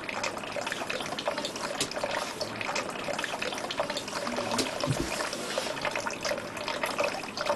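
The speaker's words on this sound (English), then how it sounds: "The soy milk is then filtered to remove any residue." Freshly boiled soy milk pours and trickles through a filter to strain out the residue, a steady close liquid splashing and dribbling sound with no speech.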